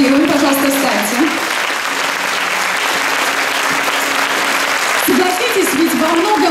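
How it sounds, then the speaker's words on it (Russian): An audience at a youth forum applauds steadily, a loud dense wash of clapping filling the hall, while a voice over a sound system talks on top of it. "Давайте ей поаплодируем, пожалуйста, встаньте."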